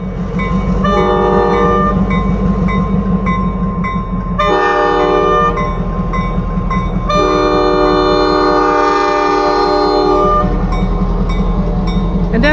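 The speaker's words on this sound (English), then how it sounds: "our diesel number 2014 is here to pick these new cars up" Reading & Northern diesel locomotive number 2014 sounds its horn in two long chorded blasts split by a short toot, over a steady, heavy engine rumble close at hand.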